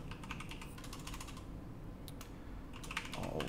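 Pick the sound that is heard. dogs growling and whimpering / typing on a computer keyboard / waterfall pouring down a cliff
typing on a computer keyboard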